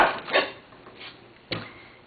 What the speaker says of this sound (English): So you start by cutting both ends off the onion.